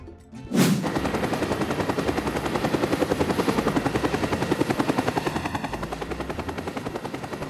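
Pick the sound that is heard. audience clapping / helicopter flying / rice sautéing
helicopter flying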